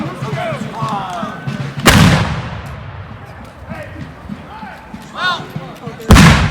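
Musket volleys fired by a company of reenactors at a Battle of Camden reenactment: two loud, sharp blasts a few seconds apart with echoing tails, and shouted commands and voices heard between them.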